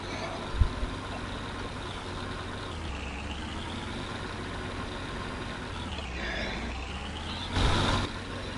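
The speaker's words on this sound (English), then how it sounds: "How's the truck running, Mike?" A snow plow truck engine idles in a low, steady rumble that rises and falls slightly, with a brief sharp click early on and a short burst of air hiss near the end, fairly quiet throughout.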